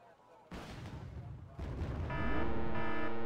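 Rocket pods fire in a war video game, a heavy booming rush of launches and blasts that builds louder and thicker, ending in a sustained roaring volley.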